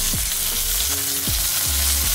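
Curry leaves and torn coriander leaves hit hot oil in a pan for a sprouted chickpea kuzhambu, giving a loud, steady sizzle with sharp crackling bursts throughout and no talking.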